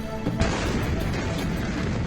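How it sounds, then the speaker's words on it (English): The massive August 4th explosion in Beirut hits as a sudden loud, broadband blast, then a dense roaring rumble sustains and rolls on with no talking. "The explosion on August the 4th is so massive that it can be heard in Cyprus"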